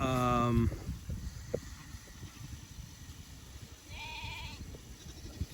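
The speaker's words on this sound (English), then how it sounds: "About 100 sheep in here, a little over 100 sheep." Sheep in a grass-fed flock of a little over 100 bleat on pasture, with a few calls near the start and again near the end over a low wind and outdoor rumble.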